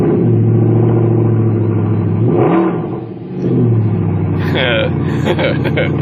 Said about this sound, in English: We'll start her up here for you. It's got an aftermarket exhaust